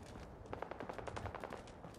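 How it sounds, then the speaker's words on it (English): Rapid bursts of automatic gunfire from the video game Fallout 4, a quick rattling volley of shots at moderate distance, fairly quiet and with no talking. "Oh, I hear gunshots."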